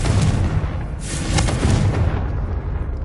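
Confringo, the blasting spell in the video game Hogwarts Legacy, goes off as a dense, loud explosive burst with rumbling low-end and crackling debris that fades away over a few seconds, with no talking.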